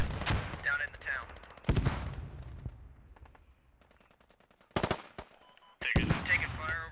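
Bursts of automatic gunfire in the video game Squad, infantry fighting around a town, come in sharp loud clusters separated by quieter gaps, with a crack at the end, heard alone without talk.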